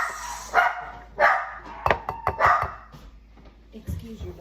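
Several dogs bark in short, sharp bursts a few times, close by, with a person talking around the barks.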